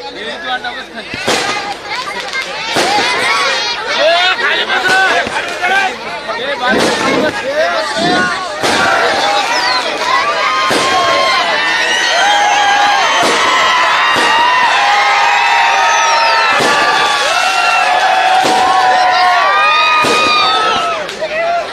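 Loud firecrackers burst again and again at uneven intervals over an excited, cheering outdoor crowd at a Vanchit Bahujan Aghadi political rally in Maharashtra, close by and sustained throughout.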